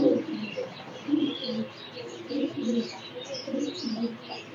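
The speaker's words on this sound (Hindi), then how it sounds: "जब जब गर्मी पड़ेगी ये कबूतर आपको देखने को मिलेंगे" Rooftop pigeons bred for high flying coo in soft, repeated rolling phrases, several birds overlapping at close range with occasional chirps, no talk over them.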